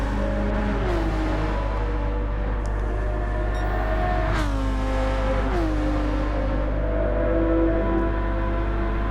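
A race car in Gran Turismo 7 runs through a tunnel on the Deep Forest track, its engine a loud continuous drone with rising and falling pitch as it shifts gears, echoing, with no talk.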